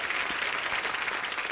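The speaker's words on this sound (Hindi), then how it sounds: "आप सबकी जोरदार तालियों के बीच मैं इनवाइट करना चाहूंगा the very handsome Sardar rock star rabi Shergill" Studio audience applause on a comedy talk show, a dense, steady wash of clapping heard up close and alone for a short burst.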